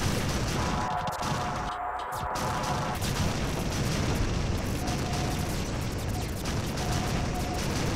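Starbase weapons fire continuously in a video game as enemies explode on entering range, a dense, steady barrage of blasts and bursts with brief tonal beeps, loud throughout with no talking.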